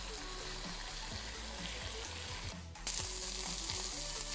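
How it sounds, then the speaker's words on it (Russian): Chicken fillet and onion frying in a pan for a keto breakfast, a steady close sizzle with crackling pops that grows brighter and louder near the end, no voices. "Обжариваем куриное филе с лучком."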